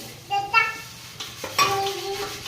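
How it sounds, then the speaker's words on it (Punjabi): Beaten eggs stirred into fried spices in a pan for egg bhurji: a spoon scrapes and clinks against the metal pan in short strokes over a light sizzle, with a faint voice in the background. "ਤੇ ਇਹਨੂੰ ਪਾ ਕੇ ਆਪਾਂ ਲਗਾਤਾਰ ਹਿਲਾਉਂਦੇ ਰਹਿਣਾ"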